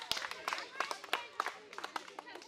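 Onlookers clap by hand during a blindfolded pot-breaking challenge pitting boys against girls for a chicken prize, with a string of sharp, irregular claps heard over steady chatter and voices.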